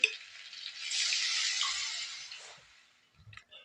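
Water swirled with leftover masala is poured into a pan of cauliflower gravy, setting off a hissing sizzle that swells, holds for a couple of seconds, then dies down, with a few soft clinks at the end.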